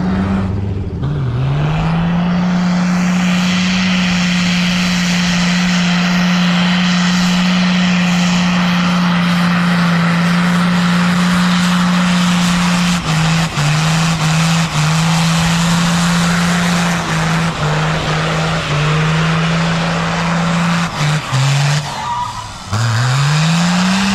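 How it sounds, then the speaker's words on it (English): A 1979 Ford truck with a Cummins diesel swap roars through a long burnout, the engine held at a steady loud drone with screeching tires, a few brief dips in revs near the end. "we plugged this one on that we had, and then I continued to do way more fucking burnouts"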